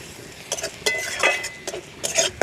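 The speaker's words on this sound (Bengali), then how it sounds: "এইবারে দিয়ে দেব নারকেলের দুধ, দিয়ে আবারও ভালো করে কষে নেব।" A spoon scrapes and clinks against a pan while patol-prawn curry with coconut milk is stirred and fried, the uneven strokes coming close and fairly loud over a soft sizzle.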